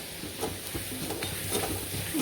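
Masala of chili powder and turmeric stirred in a pan for a Marathi shev bhaji curry, a spoon scraping in soft repeated strokes over a steady close sizzle.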